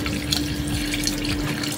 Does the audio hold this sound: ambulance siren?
no